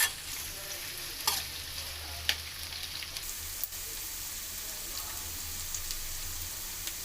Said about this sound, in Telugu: కరివేపాకు మొత్తం వేసేసుకోవాలి ఫ్రెండ్స్ వేసుకొని కొంచెం వీటిని ఫ్రై చేసుకోవాలి